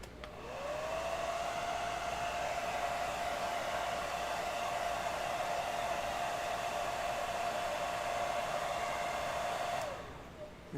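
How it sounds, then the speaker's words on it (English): Hair dryer blowing on a mummified prop skull, switching on with a rising whine that settles into a steady loud whooshing drone for about nine seconds before cutting off. "So we're going to hair dryer on this guy."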